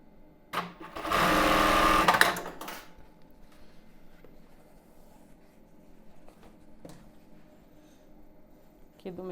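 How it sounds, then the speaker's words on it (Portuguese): A sewing machine sews a seam on the wrong side of an embroidered tulle bra in one loud close burst of rapid stitching lasting about two seconds, followed by quiet handling noises and faint clicks. "Vou passar essa costura aqui do lado avesso."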